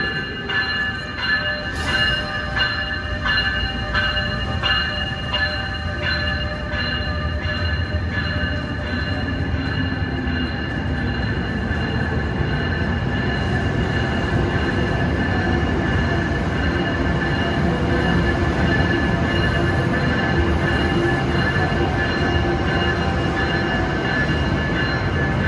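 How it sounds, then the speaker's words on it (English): A New Jersey Transit train pulls into Newark Penn Station, wheels squealing in a steady metallic whine over a low rumble and clatter, sustained and close, alone without talk. "Arriving on track 1 is the New Jersey Transit 549 inbound train to Penn Station, New York"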